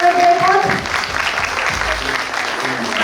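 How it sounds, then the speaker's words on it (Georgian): An audience at a kindergarten graduation ceremony breaks into applause, dense steady clapping filling the hall, with a brief voice at the very start. "ტაში შევეგებოთ."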